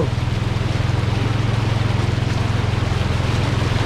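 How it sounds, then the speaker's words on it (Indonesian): Floodwater current rushing beside the Martapura River in Lok Baintan, a steady loud churning wash with a strong low droning rumble throughout, close and continuous with no voices. "Ini arus genangan airnya lumayan deras."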